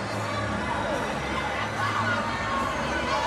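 Arena crowd at an ISL swimming match in Naples, a steady roar of cheering and babble from many spectators, with a commentator talking over it.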